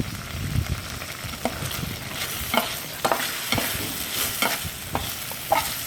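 Carrots sautéing and being stirred in a pan for bangus escabeche, with a steady sizzle and repeated scraping stir strokes, close and fairly loud, and no talking.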